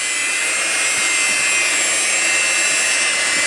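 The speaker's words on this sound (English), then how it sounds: "And so far my little old hand mixer's doing a great job." An electric hand mixer kneads bread dough, its motor whirring steady and loud with a coarse, grinding texture, no pauses, close by.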